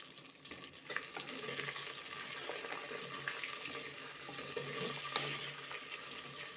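Curry leaves and about fifteen small shallots sauté in hot oil for a South Indian country chicken kuzhambu, giving a steady, close, bright sizzle with light stirring scrapes and no talk.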